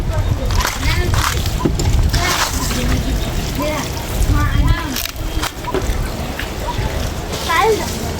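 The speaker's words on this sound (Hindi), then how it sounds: "अपन प्यारा स्कूटर के धन्नो के साफ सुथरा कर रहल छी" Water splashing and sloshing as a scooter is washed, irregular pours and splatters running throughout, with people talking over it.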